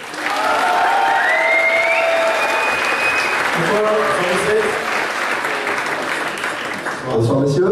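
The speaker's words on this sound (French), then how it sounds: "Je vous demande de faire un tonnerre d'applaudissements à Benjamin et Nicolas." A game show audience bursts into thunderous applause and cheering for two contestants, loud and sustained throughout, with a voice speaking briefly over the crowd.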